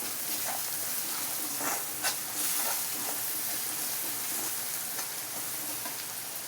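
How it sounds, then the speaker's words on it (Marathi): Masala stirred in a hot frying pan for a dry javala dish gives a continuous soft sizzle with intermittent scraping strokes, fairly quiet and steady throughout. "त्यात मी थोडा मसाला टाकते. आणि ते मी चांगलं हलवून घेते."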